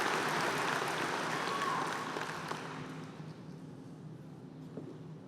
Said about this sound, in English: Please give Zoe a round of applause for being our salutatorian.